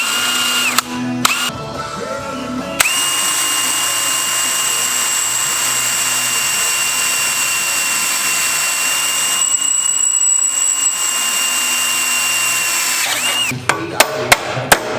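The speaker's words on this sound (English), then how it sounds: "go ahead and drill 4 holes" A power drill whines steadily at high pitch for a long stretch, with brief starts and stops at the beginning and end, loud and close.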